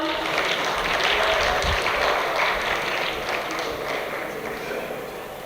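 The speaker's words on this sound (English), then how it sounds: "Can we have a huge round of applause, everyone?" Audience applause for award winners at a decorative coatings industry event, a dense, steady wash of many hands clapping for several seconds, loud and close, gradually easing toward the end.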